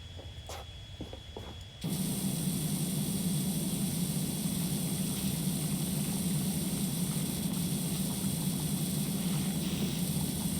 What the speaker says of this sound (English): Point blank power washing